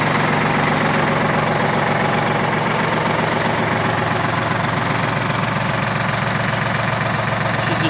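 A Detroit Diesel 12V71 two-stroke engine idles steadily in a 1973 Peterbilt 352 cabover truck, a loud, even, continuous rumble with a dense rhythmic knock running unbroken throughout, with no talking.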